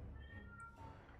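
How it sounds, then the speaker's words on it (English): A house cat meows in the background of a gaming session, a faint, drawn-out wavering cry heard from a distance beneath low room noise and a soft murmur of voices. "Also, my cat's going mad."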